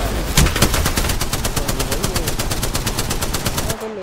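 Rapid gunfire bursts in the BGMI battle-royale video game, a loud, fast, evenly spaced string of close shots that runs almost the whole time before cutting off abruptly.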